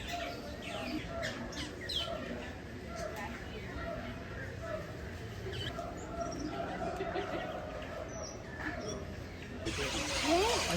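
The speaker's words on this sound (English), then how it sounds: "This is the aviary part of this trail. There's a lot of birds in here." Many birds squawk and chirp in an enclosed theme park aviary, overlapping calls near and far, with people talking underneath.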